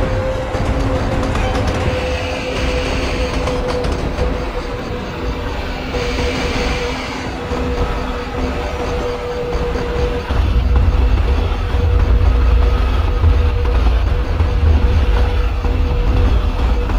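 Passenger train running in the MSTS train simulator, a continuous loud rolling rumble with rail noise that grows heavier in the second half.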